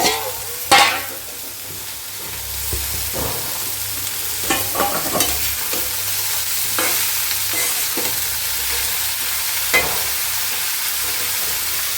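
Sliced bitter gourd and potato fry in oil with lightly browned onion, a steady sizzle under repeated scraping stirs and clinks of a spatula against the pan, close and continuous.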